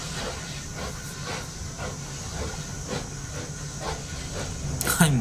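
Steam hisses steadily from a train in the Poppy Playtime Chapter 2 horror game, with soft rhythmic chuffing pulses beneath it and a brief bright burst near the end.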